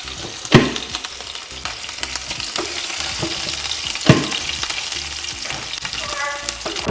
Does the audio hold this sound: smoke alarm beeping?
no